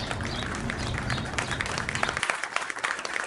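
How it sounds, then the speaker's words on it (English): Applause for a worker after a back porch makeover with a newly hung swing, a steady wash of clapping that turns sharper and more distinct in the final second. "Now can we just give this guy a big round of applause?"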